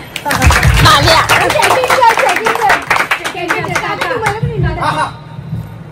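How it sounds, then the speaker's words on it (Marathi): A small group of people clap together at a home gathering during a Ganesh festival night celebration, a dense run of nearby hand claps lasting several seconds under chatter and voices, tapering off toward the end. "चला टाळ्या"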